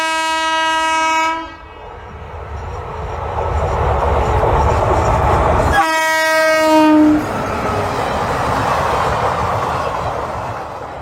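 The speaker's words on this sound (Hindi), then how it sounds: "देश की पहली हाइड्रोजन ट्रेन को प्रधानमंत्री नरेंद्र मोदी ने हरी झंडी दिखा" India's first hydrogen train sounds its horn loudly in two long, steady blasts, separated by a gap filled with the close rumble and rattle of the passing train.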